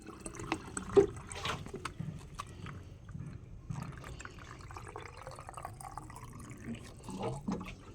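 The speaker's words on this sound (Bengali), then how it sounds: "আগে বোতল ভরবো" Water bottles being filled produce a faint, steady gurgle of running water with occasional soft knocks and clinks nearby.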